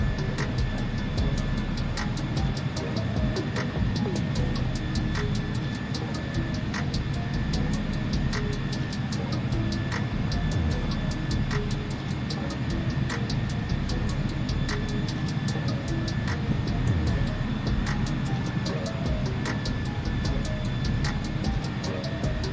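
Delta airliner taking off in Microsoft Flight Simulator, a steady, even jet engine roar with a constant high whine, holding level throughout without pause.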